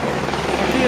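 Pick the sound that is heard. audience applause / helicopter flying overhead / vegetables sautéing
helicopter flying overhead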